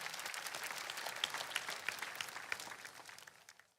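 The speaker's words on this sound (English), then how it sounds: "Shall we clap for wonderful Jesus Christ?" Audience applause after a church testimony, steady clapping from a crowd with several sharper individual claps standing out, fading toward the end.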